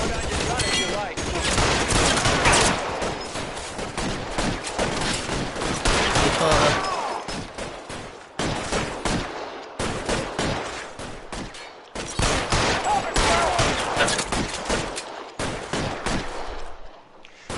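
Shootout in the crime game L.A. Noire, with dense, loud bursts of overlapping gunfire that continue almost without pause, broken by a few brief lulls, with voices shouting beneath the shots.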